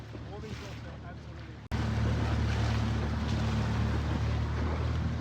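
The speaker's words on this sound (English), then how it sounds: "we decided to take the dinghy out and explore some of the other bays and coves around the area of the Blue Lagoon" A small dinghy motoring across open water among the bays and coves of the Blue Lagoon, Malta, gives a loud, steady engine drone mixed with rushing water and wind buffeting the microphone, with a brief cut early on.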